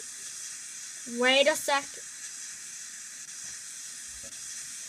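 A shower in a Minecraft furniture mod runs with a steady, even hiss of spraying water, while a voice briefly speaks over it.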